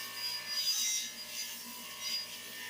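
A worn buffing head scrubs rust from an MTD mower blade's metal edge, giving a steady, hissing, abrasive rasp that swells and eases without pause.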